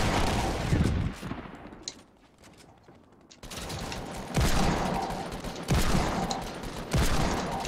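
Rapid automatic rifle fire from an AK in the Fortnite battle royale video game, several loud bursts of gunfire with a brief quieter gap in the middle.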